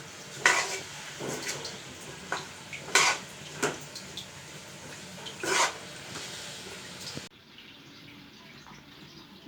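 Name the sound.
stirring food with turmeric in a cooking pot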